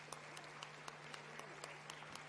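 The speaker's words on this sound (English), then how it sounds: "congratulations everyone, a round of applause" Sparse, evenly spaced claps ring out faintly at a signing ceremony during the African Climate Summit in Kenya, about nine sharp hand claps over a low steady hum, with no voices.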